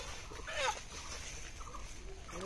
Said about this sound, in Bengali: দেখো এই দেখো মুরগিটা পালিয়ে গেছে